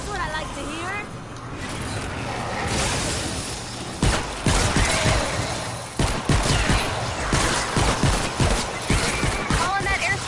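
A Fortnite airstrike hits as a rapid series of heavy, punchy impacts and blasts, loud and close, following a rising mechanical rumble, with voices talking over the barrage.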